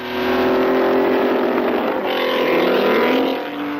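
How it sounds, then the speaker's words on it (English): A Ferrari Grand Prix racing car engine roars loudly and continuously during a race at Silverstone, its droning note rising in pitch toward the end, with some wind buffeting and no voices. "Hawthorne is driving his Ferrari aggressively"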